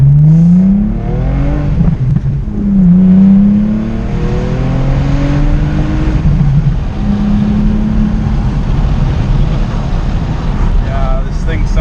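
A B5 Audi S4 engine revs and accelerates loudly, its pitch climbing in rising sweeps, with someone talking over the rumble.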